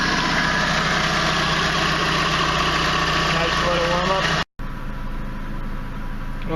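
A Dodge Stratus engine warms up at idle after a cooling system repair with the cap on, giving a steady close low drone with a faint whine, then a brief cut and a quieter continuation.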